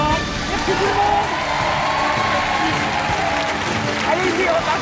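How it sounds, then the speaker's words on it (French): A French game-show studio audience applauds departing contestants, with a steady wash of clapping mixed with scattered cheers and crowd chatter. "vous laisser partir sous les applaudissements"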